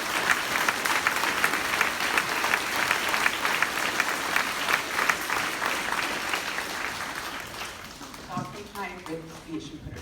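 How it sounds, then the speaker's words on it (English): A crowd claps steadily for the community at the Harrison Elementary groundbreaking ceremony. The dense applause runs for about eight seconds, then thins out as voices begin talking near the end. "So can we give everybody here a round of applause?"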